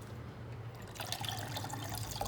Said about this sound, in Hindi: इसमें थोड़ा सा पानी शामिल करेंगे, ज़्यादा नहीं